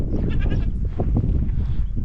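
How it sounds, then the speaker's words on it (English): Goats bleat on a hillside along a mountain hiking trail, several repeated nasal calls close by over a steady outdoor background, with no talking. "Here we have goats only."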